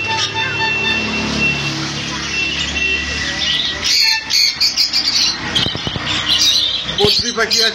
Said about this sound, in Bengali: এখানে বদ্রি পাখি আছে